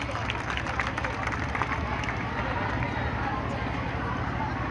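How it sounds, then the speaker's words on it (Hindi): Loud, dense applause from a Rathore community gathering honouring a top-scoring student, a steady roar of many hands throughout, with voices mixed in. "जोरदार तालियां हो जाए इनके लिए भी"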